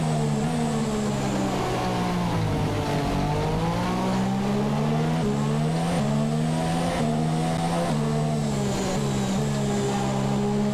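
Formula 1 car racing around Monaco in F1 2017, engine whining steadily at high revs with rising and falling pitch as it shifts through corners, loud and close throughout.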